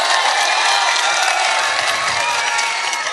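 A loud, dense crowd roar with cheering and clapping at a mushaira poetry gathering fills the whole stretch, continuous and close, with no clear single voice standing out.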